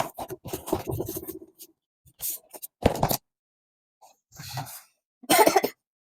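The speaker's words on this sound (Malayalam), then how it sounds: "എന്താ, നിനക്ക് ചുമയാണോ?" A few separate coughs and throat-clearing bursts from one person, close and fairly loud, spaced out with silent gaps between them.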